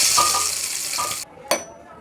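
Hot oil tempering is poured into peanut tomato chutney, giving a bright, loud sizzling hiss. It cuts off abruptly, followed by one short sharp sizzle burst.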